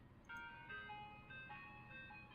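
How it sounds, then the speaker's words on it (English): An ice cream truck's chiming melody plays steadily over a low rumble of traffic, the tune repeating in bright, tinkling notes. "I turn my eyes to fall upon the approaching truck."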